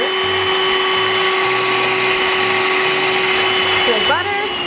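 An electric mixer whirs steadily and loudly as it creams butter with two sugars for edible cookie dough, the motor's hum holding constant throughout.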